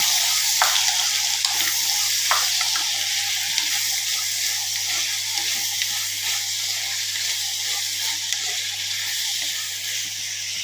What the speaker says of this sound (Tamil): அடுத்து கருவேப்பிலை அடுத்து வெங்காயம் தக்காளி நல்லா வதக்கி வைக்கலாம்